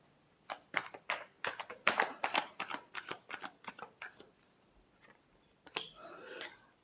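Tarot cards are shuffled by hand in quick, crisp riffling bursts, about a dozen close snaps in a rapid run, a pause, then a final longer shuffle.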